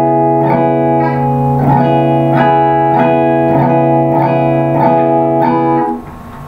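An electric guitar repeatedly strikes one muted-string chord, about seven rhythmic strums that ring briefly each time, loud and close with no speech.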